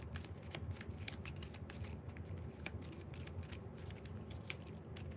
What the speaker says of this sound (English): I grab all of the ships here. And I'm going to give them a little shuffle.